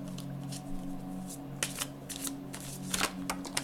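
Tarot cards shuffled by hand in a quiet room, a run of soft riffling flutters and crisp slaps repeating irregularly over a steady low electrical hum.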